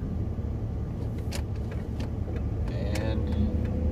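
Inside a moving truck, a steady low road and engine rumble fills the cab, with a few short rattles and clicks on top and no clear talking.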